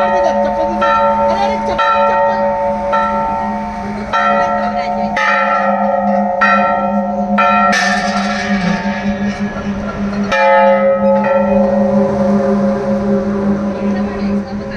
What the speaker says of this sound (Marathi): हे घंटानाद कर पाहिजे